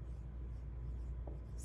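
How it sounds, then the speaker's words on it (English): Pencil or marker scratches steadily across paper or a board in a second-grade classroom as sentences are written out by hand, a soft continuous rubbing heard quietly over low room hum. "So I'm going to write that"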